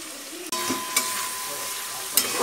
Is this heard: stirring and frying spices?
yes